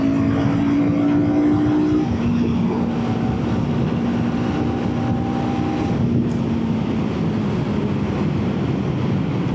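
A 2025 Royal Enfield Guerrilla 450 motorcycle engine drones loud and steady while riding, its pitch shifting as it pulls easily, with wind and road noise throughout.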